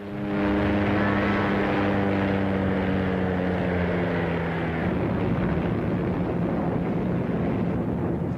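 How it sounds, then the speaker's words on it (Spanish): Steady droning propeller engine of a WWII Allied reconnaissance aircraft over northern France, loud and continuous, with a low pitch that slowly shifts as the plane passes overhead. "los aviones de reconocimiento aliados recorrieron las playas del norte de Francia"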